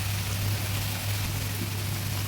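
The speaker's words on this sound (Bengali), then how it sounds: "মশলাটা ভালোভাবে ভেজে এবার দিয়ে দেবো ডাঁটাগুলো" Vegetable stalks hit hot frying spices and give off a dense, steady sizzle that stays constant and fairly close for the whole stretch, with no voices.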